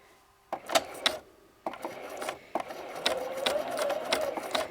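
A Bernina 1630 sewing machine stitching through thick quilted fabric made of heavy batting between two layers of cotton, a few short bursts of mechanical stitching that build into a steady, close whirring run.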